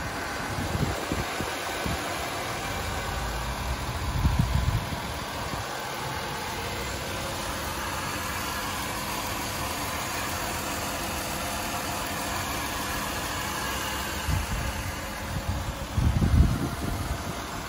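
A Buick V6 car engine idles under the hood in a steady, low mechanical hum with a faint fan whir, punctuated by a few brief louder thumps, with no talk.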